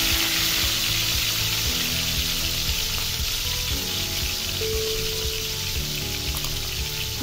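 Three pieces of rohu fish coated in turmeric and salt fry in hot oil with a steady, close crackling sizzle, uninterrupted and without talk, a faint low hum running underneath.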